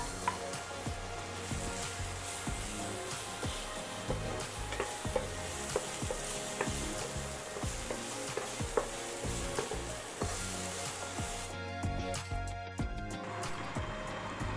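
Onion and tomato sautéing in a pan for an egg fry, a continuous close sizzle with frequent scraping and stirring clicks from a spatula, loud and steady throughout.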